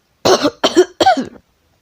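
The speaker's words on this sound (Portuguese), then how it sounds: "desculpa pela tosse" Three loud, harsh coughs in quick succession, close by, each a short rough burst followed by brief silence.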